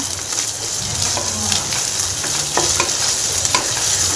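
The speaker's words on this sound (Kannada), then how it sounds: "ಈಗ ಒಂದು ಸರಿ ಮಿಕ್ಸ್ ಮಾಡ್ಕೊಳ್ಳೋಣ ಈ ಥರ" Ginger garlic paste frying in a pan is stirred steadily, giving a constant loud sizzle with scraping strokes of the spoon throughout, no voices.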